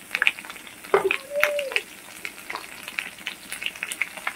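Spices and turmeric sauté in a pan with a light, intermittent sizzle and stirring clatter, broken by sharp utensil knocks, with faint voices in the background.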